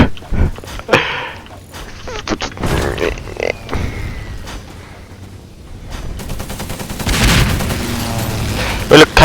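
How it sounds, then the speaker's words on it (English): Bombing explosions in an online multiplayer video game, a chaotic mix of loud blasts and booms of varying size, with voices talking over the noise. "can we kindly ask the other team to stop bombing us?"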